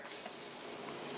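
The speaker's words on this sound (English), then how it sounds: "So let's go ahead and pour our pancake mix on that we have right here." Pea protein pancake batter fries in oil in a pan, giving a faint, even crackling sizzle for a brief moment with no voices.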